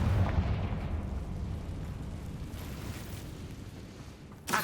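A Confringo fire spell explodes in Hogwarts Legacy on PS5, opening with a loud booming burst that settles into a sustained rumbling roar and ends on a sharp crack.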